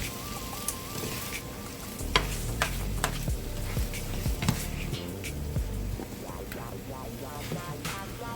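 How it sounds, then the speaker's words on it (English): Fried rice stirred with teriyaki sauce sizzles steadily in a hot pan, with a spatula clicking and scraping against the metal at irregular intervals, close up and without talk. "now we're gonna go in with a little bit of teriyaki sauce and just go ahead and mix that up real good"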